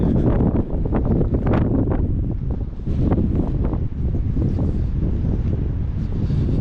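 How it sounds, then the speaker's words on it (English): Strong erratic wind gusting across the Cornish coast between Tintagel and Boscastle, a loud continuous roar buffeting the microphone, rising and falling in uneven surges with no voices. "I'm trying to tell which way the wind is blowing, but it seems to be very erratic."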